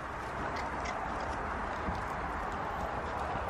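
A horse moves in a collected trot, its hooves beating a steady, fairly faint clip-clop rhythm under a constant broadband wash of wind or arena noise.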